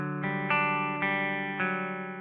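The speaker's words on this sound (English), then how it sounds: "you can hear the compression artifact out of the gained up guitar sound" High-gain electric guitar chords ring out in a hard rock riff, thick and distorted, with a few sustained strums decaying between attacks and a slightly processed, artifact-tinged tone.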